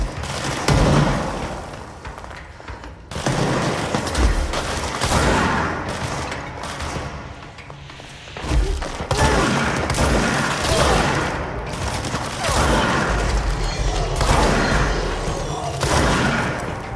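Grenade blasts and bursts of gunfire during combat in the video game Control, dense repeated booms and rattling shots layered loudly through the scene, with faint voices now and then.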